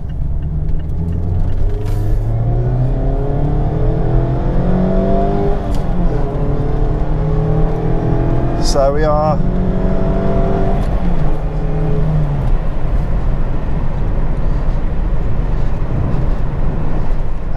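A Mazda MX-5 RF engine drones and rises through the gears while driving, loud and close, with brief speech over it near the start.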